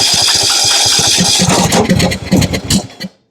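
A Briggs & Stratton small engine, previously refusing to start, catches and runs in a loud, uneven sputter with irregular firing pulses, then cuts out abruptly near the end.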